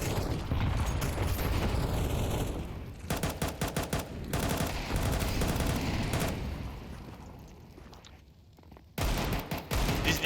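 Gunfire in the video game CS2 on the Anubis map while a player runs: sustained rapid rifle fire in rattling bursts over a constant noisy game backdrop, fading briefly before a sharp new volley near the end.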